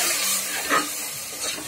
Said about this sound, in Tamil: கொத்தமல்லி புதினா பேஸ்ட் அதையும் சேர்த்து நல்லா வதக்கிக்கணும்